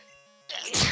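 A single abrupt sneeze bursts out close by after a faint electronic game tune, loud and brief.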